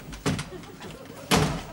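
A door swings shut in a house, a sharp thud early on and a louder closing bang near the end, with faint room noise between.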